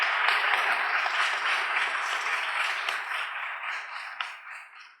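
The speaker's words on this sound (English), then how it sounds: "let's give another round of applause for our winner for Best Service Professional" A sustained round of applause for an award winner at an awards ceremony, dense steady clapping from a crowd that gradually thins toward the end.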